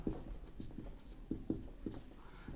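Chalk or marker strokes on a board during a chemistry lesson, a series of short scratchy taps in an irregular rhythm, close and fairly quiet, with no voice over them.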